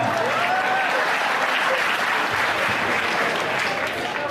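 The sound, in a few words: audience applause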